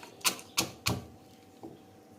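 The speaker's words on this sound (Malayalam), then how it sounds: "വറ്റൽ മുളക് നമ്മൾക്ക് ഇതിലേക്ക് ഇട്ട് കൊടുക്കാം ഇതൊന്ന് ഇടിച്ചെടുക്കാം" Three sharp, hard knocks in quick succession, then a fainter fourth thump, as dried red chillies are pounded in a stone mortar, with no voices.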